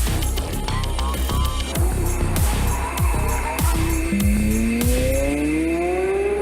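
Porsche Carrera GT's V10 engine, the only ten-cylinder road Porsche, with a carbon-fibre body, revs hard through repeated rising gear pulls alongside other car sounds and some tire noise, loud and continuous.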